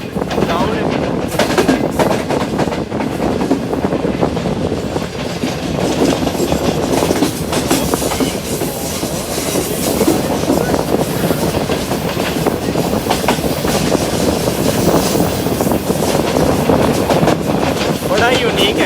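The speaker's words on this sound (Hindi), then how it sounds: "45 ऑफ पाकिस्तान एक्सप्रेस वहाँ नीचे से आकर हमें क्रॉस करती है" Pakistan Express train rolling past on the main line near a railway station, heard from aboard another train: a loud, steady rumble with rhythmic clickety-clack of wheels and wind noise throughout.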